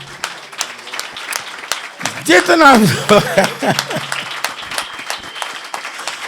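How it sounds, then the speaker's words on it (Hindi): Church congregation bursting into applause after a Hindi-language sermon, a dense wash of clapping that swells midway and stays steady, with a preacher's voice speaking over it. "और उसी के लिए जोरदार तालियां बजाएं।"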